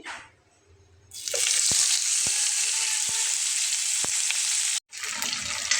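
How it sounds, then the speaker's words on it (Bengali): Fish frying in very hot oil in a large pan: a loud, steady sizzling roar erupts once the pieces go in, with a few sharp spatula taps and a brief break before the hiss resumes. "যেহেতু তেলটা প্রচুর গরম হয়ে গেছে আমি মাছগুলোকে খুন্তির সাহায্যে দিয়ে নিচ্ছি"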